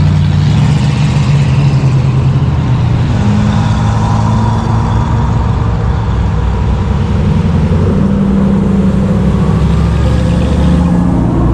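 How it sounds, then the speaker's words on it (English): Loud, continuous engine noise of Pontiac Firebirds and other Smokey and the Bandit-style cars rolling past nearby at a car event, a rumbling drone that swells and shifts without pause and no talking. "This is so cool to get to sit here and see these cars roll through."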